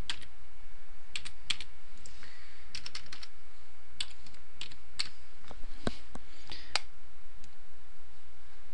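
Typing on a computer keyboard while entering data in SPSS statistics software: a quiet, close series of irregular key clicks, spaced in short bursts over a low steady hum.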